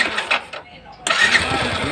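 A Yamaha Byson motorcycle with a newly replaced cylinder block and rings cranks and then catches, rising into a close, steady idle after a brief pause, with a person speaking over it.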